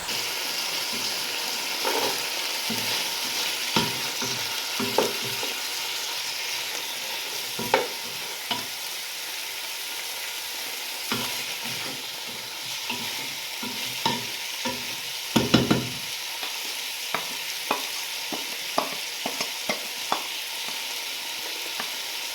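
Meat sizzling in a hot pan for a baked pumpkin dish as a spoon stirs it, giving a constant close frying hiss broken by scraping and knocking strokes, with no talking.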